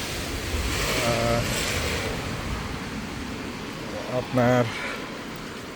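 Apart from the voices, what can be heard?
heavy rain while walking outdoors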